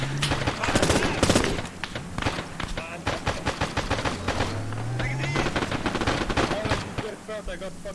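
Rapid automatic and single gunfire from the military shooter game ArmA during an assault near a church tower, sustained bursts throughout with near and distant shots, under voices talking over team chat.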